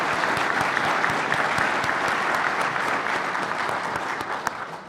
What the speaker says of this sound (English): Please join me in applauding our experts.